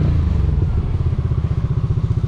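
A motorcycle rides through flood water after rain, its engine a loud, close, throbbing rumble with steady clattering and thumping throughout and no talk.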